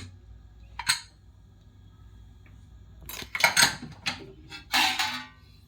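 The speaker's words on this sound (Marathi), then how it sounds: "आता मी तुम्हाला कुकर उघडून दाखवते" A home pressure cooker that has cooled after two whistles is opened over masala khichdi rice. Quiet metallic clinks and scrapes of the lid come in several short bursts, a few louder clanks near the end, and a faint hum sits underneath.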